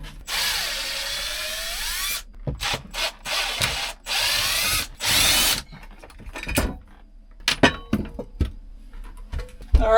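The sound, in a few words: drill with long Robertson bit removing screws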